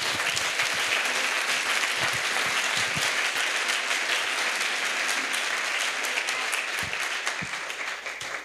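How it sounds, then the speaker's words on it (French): A church crusade congregation in Bafoussam claps together, a dense and loud wash of applause that holds steady throughout. "Acclamons pour Jésus. Let's clap to Jesus."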